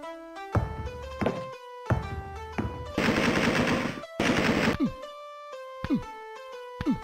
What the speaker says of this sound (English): Let's try the gun again.